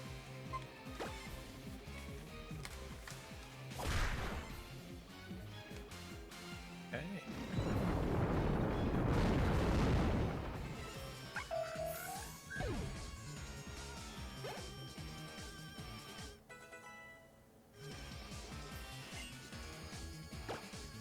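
Earthquake move in a Pokémon video game: a loud, sustained rumbling crash swells for a few seconds over busy game music and sound effects, then fades back into the background.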